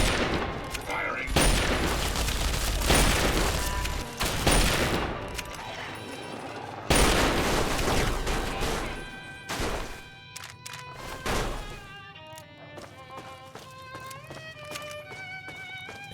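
Bursts of rapid gunfire and heavy booms from the Fallout 3 video game, loud and dense for several seconds, then giving way to sustained tonal music-like sounds toward the end.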